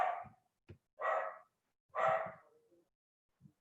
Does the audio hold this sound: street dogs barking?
yes